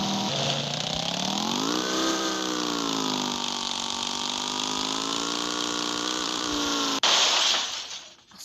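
Motorbike engine in the Sakura School Simulator video game revving up and holding a steady, loud drone for about seven seconds, pitch rising then levelling, before cutting off abruptly with a brief burst of noise.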